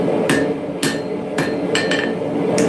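A hammer forges the beard of an axe made from a railroad spike, five or six loud, ringing metallic blows spaced unevenly, close and alone.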